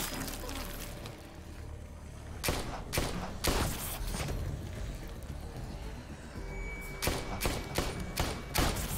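Bursts of rapid gunfire crack through a chaotic action scene in The Walking Dead: A New Frontier video game, loud clustered shots around the middle and a dense volley near the end over a continuous rumbling background.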